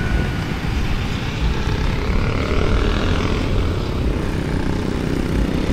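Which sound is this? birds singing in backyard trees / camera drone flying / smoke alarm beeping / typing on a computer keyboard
camera drone flying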